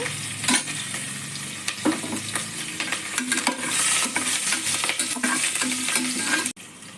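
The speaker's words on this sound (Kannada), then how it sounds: "ಗೋಡಂಬಿ ಹಾಕೋತಾ ಇದ್ದೀನಿ ಹಚ್ಚಿಟ್ಕೊಂಡು ಹಸಿಮೆಣಸು ಹಾಕೋತಾ ಇದ್ದಾನೆ" Cashews and green chilies sizzle and fry in a pan for matar pulao, with steady crackling oil. A spoon stirs and scrapes against the pan in repeated strokes, close and loud.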